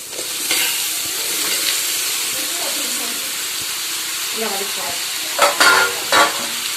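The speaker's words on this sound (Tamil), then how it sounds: "இதையும் நல்லா வதக்கலாம் பாருங்க" Ingredients sautéing in a pan for chicken biryani, a loud continuous sizzle and hiss with stirring scrapes and a few louder clatters near the end, no talk.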